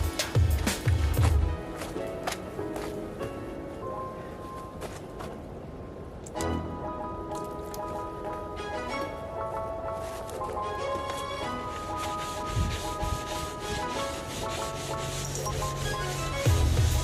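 Scrubbing and rinsing on a Skeeter bass boat hull: a steady, close rubbing and scouring that runs throughout, with a few louder scrapes near the start and end.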